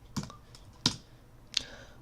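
Three separate, crisp keystrokes land about two-thirds of a second apart on a computer keyboard as a terminal command is entered, close and clear in a quiet room.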